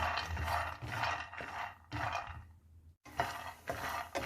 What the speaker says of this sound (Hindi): मूंगफलियों में से चट चट की भी आवाज आ रही है